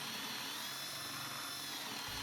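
A power drill bores a hole into a wooden post during cable railing lag end stop installation, a continuous whirring grind that stays close and loud throughout.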